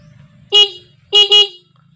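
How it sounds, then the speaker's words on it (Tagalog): A Suzuki GD 110 motorcycle horn is tested with a single short honk, then two quick honks in succession, loud and close over a low idle hum. "susubukan natin yung busina"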